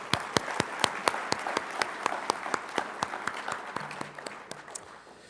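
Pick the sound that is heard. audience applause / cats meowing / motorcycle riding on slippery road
audience applause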